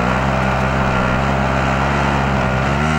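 A car driven in the video game Warzone, with a loud, steady engine drone that holds constant throughout, close and unbroken, with no talking.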